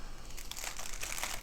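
Pretty tissue paper wrapping a diamond painting haul package is crinkled and gently torn, a close, continuous papery rustle and rip lasting about a second and a half.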